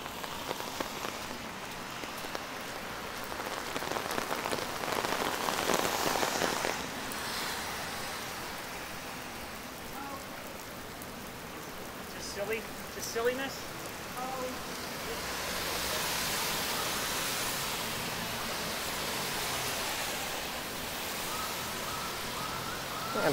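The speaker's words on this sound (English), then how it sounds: "And we're getting a pretty good amount of rain now." Steady rain patters on Bloor Street East in Toronto, a constant hissing wash with passing traffic and faint city noise in the background.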